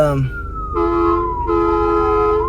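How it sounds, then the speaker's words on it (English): Emergency vehicle sirens wail on the road, several overlapping tones sliding in pitch, with bursts of horn-like blasts starting and stopping; loud and near. "there's a lot of sirens"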